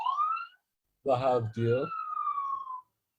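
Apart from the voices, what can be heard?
ambulance siren passing across the street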